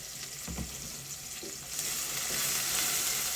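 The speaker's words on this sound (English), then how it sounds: "So you cook your onions until it turns brown." Onions and vegetables fry in a pan, a soft, steady sizzle close by with a few light stirring scrapes early on, growing slightly louder toward the end.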